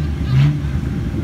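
A Subaru WRX on E85 with its exhaust off gives a brief throaty rev that swells and then settles back to a rough rumble, heard at a race meet with crowd chatter and voices mixed in.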